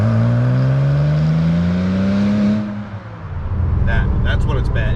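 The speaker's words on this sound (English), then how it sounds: "I'm going to go with 83-ish decibels of drone" Porsche 996 Turbo with a titanium exhaust droning at highway speed around 3,000 RPM: a loud, steady low hum that slowly rises in pitch, then eases back under road roar, with a voice talking near the end.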